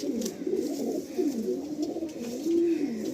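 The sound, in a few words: pigeons cooing in a loft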